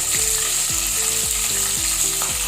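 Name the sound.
green chillies frying in oil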